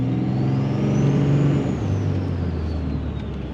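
A Cummins diesel truck drives along with a loud, steady engine drone that shifts pitch as it moves, close to the microphone, and no voices are heard.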